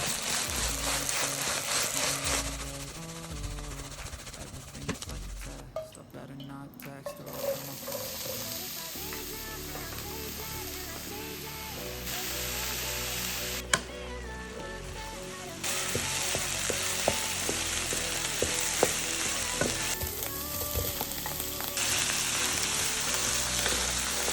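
Eggplant with garlic and spices frying in a pan for buckwheat with eggplant, a steady close sizzle and crackle that runs throughout with occasional stirring scrapes, alone and fairly loud.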